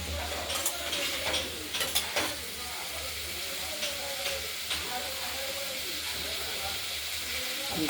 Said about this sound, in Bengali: আজ ভেজে নিচ্ছি